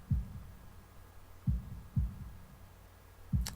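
Heartbeat sound effect in the visual novel Katawa Shoujo: four deep, muffled low thumps spaced irregularly over a faint hum, with a brief high tick at the end.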